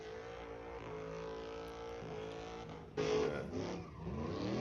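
Truck engine, likely an LS V8, revving hard during burnouts, a steady loud drone that jumps to a harsher, louder roar near the end, no talking.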